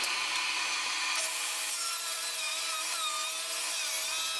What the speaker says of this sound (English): I go to the table saw and I cut another straight edge on the other side